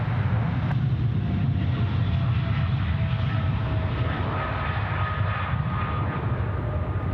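An airliner lands on runway 34 left at Sydney Airport, its engines a broad, steady roar held near and loud throughout, with no one talking over it.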